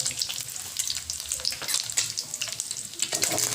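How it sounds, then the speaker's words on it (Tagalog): Smoked fish (tinapa) fries in oil in a pan, a steady crackling sizzle with irregular pops and occasional stirring, fairly close and heard on its own without talk. "piniprito ko na yung tinapa"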